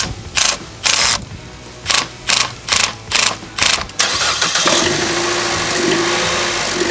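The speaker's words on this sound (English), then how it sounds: "The car started up and then it died right after I started up" A modified daily-driver car with an air-supply problem cranks in a series of rhythmic starter bursts, then catches and fires up into a loud, steady idle, close to the microphone.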